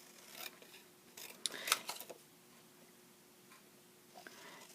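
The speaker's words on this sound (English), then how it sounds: "I'm simply going to take my scissors and snip down these edges" A few quiet, crisp scissor snips trimming cardstock edges, clustered in a short sharp burst midway, with faint rustling around them.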